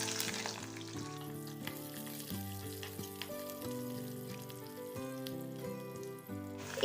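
Whole cloves, cardamom, cinnamon, bay leaves and chopped garlic fry in oil for pepper chicken, producing a continuous soft sizzle under a loud layer of background music.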